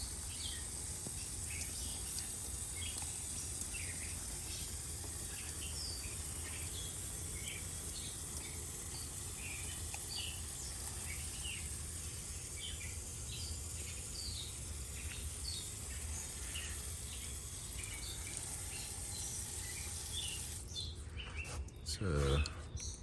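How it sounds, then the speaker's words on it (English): Many birds chirp and call continuously at dawn before sunrise over a steady hum, fairly distant and soft, with a brief rustle near the end. "the birds are very active, as you can hear them"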